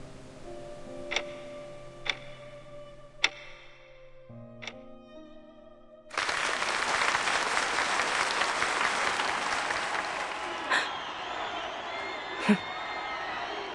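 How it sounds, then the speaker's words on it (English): Crowd applause in a video game starts abruptly after a few ticking clock-like clicks, then sustained clapping and cheering fills the scene, loud and steady. "This applause isn't for me, but it should be."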